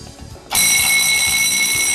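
Smoke detector set off by a test smoke spray blares a sudden, loud, continuous high-pitched alarm tone that holds steady after a quieter start.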